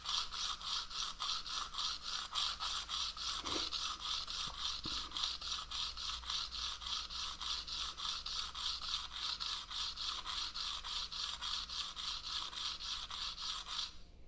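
Broadhead blades are sharpened with repeated swipes, a steady rhythmic rasping scrape in fast, even strokes, close and continuous for many seconds with no talking.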